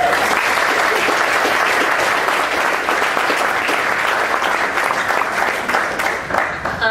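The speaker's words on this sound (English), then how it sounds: "I just want to give him a round of applause for that" A round of applause for Sam Swiesky at a student-athlete gathering, loud, dense and sustained clapping from a large crowd throughout, with a few scattered voices mixed in.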